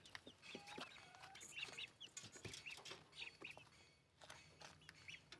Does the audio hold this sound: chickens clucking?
yes